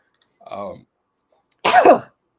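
A person lets out a single loud sneeze, preceded by a short vocal sound with a brief pause between them.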